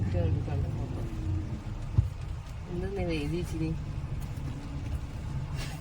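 A car drives along steadily with a continuous low engine rumble and road noise, while someone talks over it.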